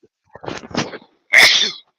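A single loud sneeze up close, a short breathy intake followed by a sharp explosive burst, then silence.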